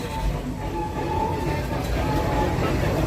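A safari park tour train at Busch Gardens in Tampa, Florida rolls steadily along with a continuous rumble and faint rhythmic wheel clatter, the noise close and even throughout with a faint voice.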